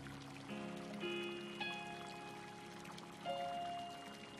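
Water pours and trickles in soft, uneven bursts, with a few brief splashing surges amid quiet background music.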